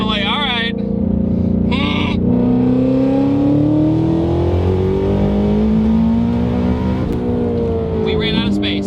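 A 1300 HP twin-turbo Shelby GT350 in drag mode pulls hard, its engine note climbing steadily in pitch over several seconds, loud and close from inside the car, with brief chirping sounds at the start and end.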